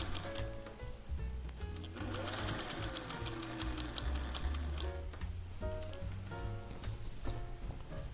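A home sewing machine stitches a ruffle onto a flannel shirt, a rapid close mechanical patter that runs continuously, speeding and slowing with a few brief pauses.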